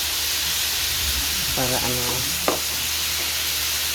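Liver sautéing in a pan gives a continuous hissing sizzle with steam, stirring noises on top, and a short stretch of speech partway through.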